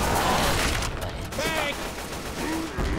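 Rapid gunfire in the zombie shooter Left 4 Dead 2, a dense continuous rattle of shots with voices shouting over the din.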